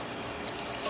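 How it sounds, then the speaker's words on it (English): Proofed yeast and water mixture pours into all-purpose flour for focaccia dough, a brief soft liquid trickle and splash heard close up and alone. "proofed yeast water mixture."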